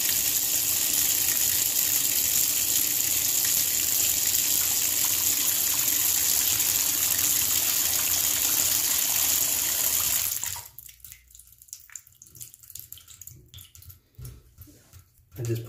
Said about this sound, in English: let's just fill some water up on that